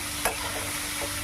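Sliced onions lightly frying in a pan for a Sunday country-chicken dish, a soft steady sizzle with a brief scrape of stirring near the start and another faint one toward the end, no voices.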